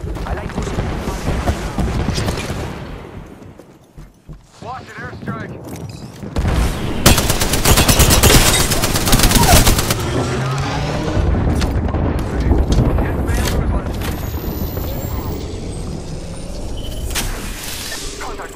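Gunfire during an Apex Legends match, loud sustained volleys and bursts with booming impacts stacking into a continuous barrage lasting most of the stretch.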